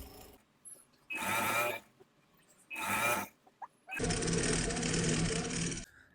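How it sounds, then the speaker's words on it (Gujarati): A sewing machine stitches along a salwar waistband, running in two short bursts and then one longer steady run, close and clear, with quiet pauses between bursts. "આવી જ રીતે આપણે આખા નેફામાં સિલાઈ મારી દઈશું."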